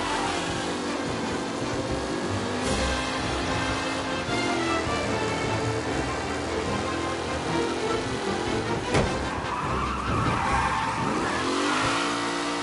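Race cars roaring and skidding in the game Mafia, with revving engines and squealing tires sweeping past in a continuous, busy stream of motor noise.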